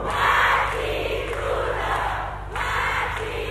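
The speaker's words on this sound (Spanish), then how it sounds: "El fuerte aplauso para ellos" A concert audience at a live show at Teatro Colonial in 2011 cheers and applauds in a loud, steady roar that swells and dips slightly but never stops.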